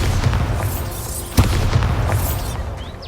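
A Bombarda blasting spell in Hogwarts Legacy goes off as one sharp, loud explosive crack partway through, over a steady rumbling game ambience.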